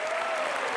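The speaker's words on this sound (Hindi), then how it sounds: "जोरदार तालियां" A brief, dense burst of audience applause on the set of a comedy talk show, Comedy Nights With Kapil, loud and steady throughout with no pause.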